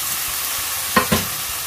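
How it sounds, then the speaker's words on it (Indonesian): Tempeh being stirred in a frying pan with sweet soy sauce and white sugar, giving two quick scraping strokes over a low steady sizzle, close and moderately loud. "Diaduk rata."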